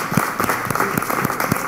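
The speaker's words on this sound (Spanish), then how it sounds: "quiero con mis compañeros acá darle un fuerte aplauso a estos héroes que cayeron en su trabajo y a la policía de Puerto Rico" Applause from an audience honouring fallen heroes and the Puerto Rico police at a live show, a dense patter of claps sustained at moderate volume throughout, with a few sharper individual claps standing out.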